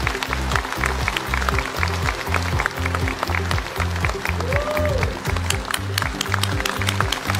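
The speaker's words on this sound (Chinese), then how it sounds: "掌声有请夏思宁。" A studio audience claps to welcome track hurdler Xia Sining onto a television talk show, the steady applause running over a loud, looping rhythmic music bed for several seconds.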